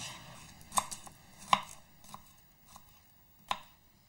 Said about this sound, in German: Zwiebel und Knoblauch werden sehr klein geschnitten.